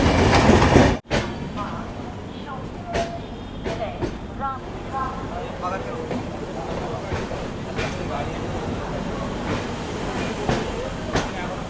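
Avadh Assam Express passenger train runs on the rails in India, with a steady rumbling roar, repeated clickety-clack wheel beats and a sharp thump near the start, heard from inside the coach under some background voices.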